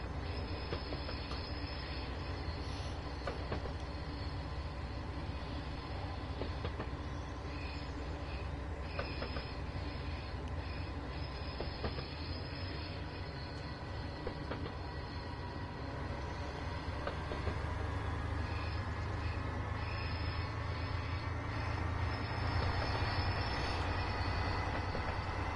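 A BNSF GP60 locomotive hauling spine intermodal wagons in Train Sim World 6 runs with a steady diesel drone and rolling rail noise, faint wheel squeal and clicks, the engine rising louder toward the end.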